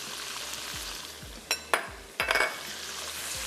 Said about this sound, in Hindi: मैं इसमें ऐड कर देती हूँ लहसुन और अदरक का पेस्ट।